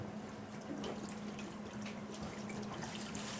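Wine vinegar pours in a thin continuous stream into a pan for a sweet and sour sauce base, a soft, steady liquid trickle over a low background hum, close by, with no voices.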